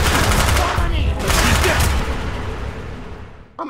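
Dense machine-gun fire from Call of Duty: Black Ops rattles loudly in fast overlapping bursts, strongest through the first two seconds before thinning and fading, with a brief thump at the end.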